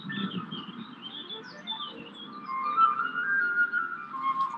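Birds chirp and whistle outdoors near a city, a run of light tweets and a sustained whistling call at moderate distance over a quiet background.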